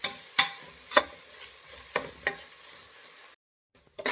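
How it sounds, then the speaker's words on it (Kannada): Egg biryani masala being stirred and fried in a pan over medium heat: a few sharp scraping strokes over a soft sizzle, close by, then a brief silence and a final scrape. "ಇದನ್ನು ಮಿಕ್ಸ್ ಮಾಡಿ ಮೀಡಿಯಮ್ ಉರಿಲಿಟ್ಟು ಮಿಕ್ಸ್ ಮಾಡಬೇಕು"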